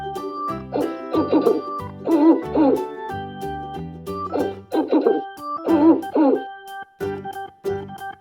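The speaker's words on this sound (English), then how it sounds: "Owl." An owl hoots repeatedly in short rhythmic groups of calls, loud and close, set against light backing music with no speech.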